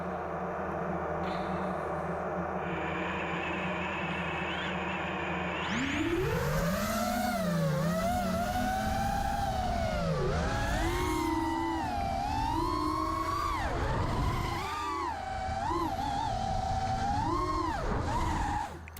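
A quadcopter's motors whine at high throttle through hard turns, the pitch sweeping up and down over a steady roar; loud and continuous after a brief lower hum at the start.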